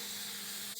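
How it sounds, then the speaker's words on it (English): A steady, broad hiss of an aerosol can spraying adhesive continuously at close range onto cardboard, ending abruptly near the end. "I'll spray these on some cardboard"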